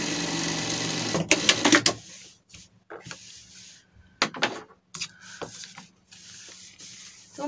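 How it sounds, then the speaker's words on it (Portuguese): A sewing machine runs in several bursts of rapid stitching through leather for a pet vest, each run stopping abruptly with quiet pauses and small handling clicks between. "Também eu vou passar uma costura para firmar bem"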